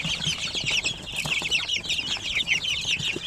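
Day-old chicks at a poultry farm, many high-pitched peeps overlapping in a dense, continuous chorus close by, with soft rustling underneath.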